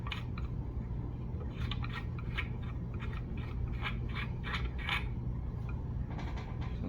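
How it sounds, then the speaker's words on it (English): Metal muzzle device being unscrewed by hand from the threaded barrel of a Sam7 SF rifle, giving a run of close, irregular scraping and creaking mechanical clicks over a steady low background hum. "I'll go ahead and thread the muzzle off here"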